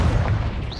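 A Confringo fire-blast spell explodes in the Hogwarts Legacy video game as a short, heavy booming blast with a deep rumble and a brief whooshing tail.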